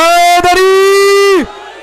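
An audience at a religious poetry gathering in Faisalabad for 13 Rajab raises a loud, sustained chanted slogan in one long drawn-out shout that cuts off sharply after about a second and a half.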